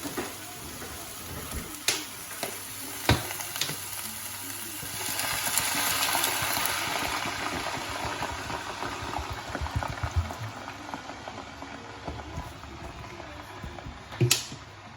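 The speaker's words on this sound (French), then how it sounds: "Et maintenant, je mets l'eau." Water pours into a cooking pot holding courgettes for a Moroccan couscous, a continuous rushing gush that swells midway and then settles, with a few clinks of kitchenware.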